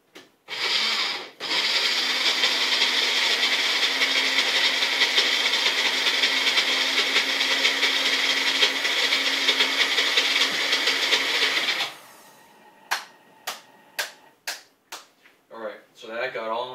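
A Magic Bullet blender whirs loudly and steadily for about ten seconds while blending taco pizza sauce, then stops and is followed by a series of sharp knocks and clatters.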